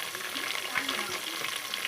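Green chillies tossed into hot oil in a pan, sizzling and crackling steadily at close range with light stirring.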